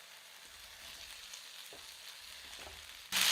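A snack sizzles and fries in a hot tempering of curry leaves and asafoetida, a steady close crackle running throughout, ending with a sharper burst of hiss.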